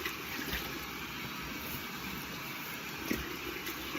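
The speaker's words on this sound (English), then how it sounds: "I'm gonna wash my face a little bit with some hot water." Hot water running and splashing steadily at a bathroom sink while someone washes their face before shaving, a continuous broadband wash with one brief louder splash near the end and no talking.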